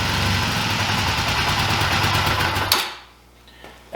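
A 2004 Honda Rebel 250 motorcycle engine with a fuel delivery fault runs close by in a rough, pulsing idle, then cuts out abruptly near the end, leaving quiet with a faint click.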